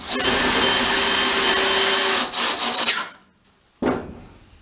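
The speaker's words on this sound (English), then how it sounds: "I think I'm just going to screw it to this piece of plywood that's still on here." A power driver sinks a screw into plywood with a loud, steady grinding whir for about three seconds, then cuts off, followed by a short burst of clatter after a pause.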